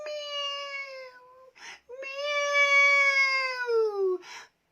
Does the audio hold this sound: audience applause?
no